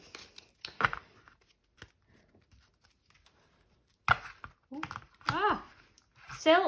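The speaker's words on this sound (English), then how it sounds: "let's shuffle again." A deck of cards is shuffled in short, crisp riffling bursts separated by quiet pauses, and a person talks near the end.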